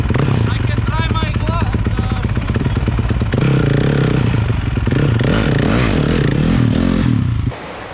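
A dirt bike recovered from a lake runs with an aftermarket exhaust, its loud, raspy engine note holding steady and close before dropping off abruptly near the end.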